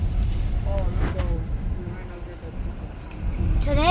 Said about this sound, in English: Today's so windy here.